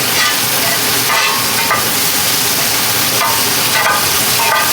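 A smash burger patty sizzles steadily in a skillet after being flipped, a continuous loud frying hiss with faint crackles and a few soft scrapes throughout.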